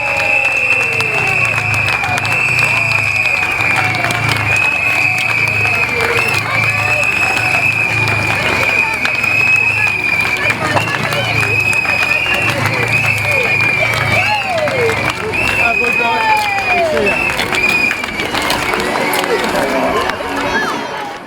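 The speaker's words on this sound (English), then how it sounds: "stamp your feet, clap your hands, blow your whistle, and welcome your Isle of Wight Wightlink Warriors" A speedway crowd on the Isle of Wight cheers, claps and stamps to welcome the home team, a dense, loud roar with a steady rhythmic pulse and a sustained whistle tone running through, voices mixed into the din.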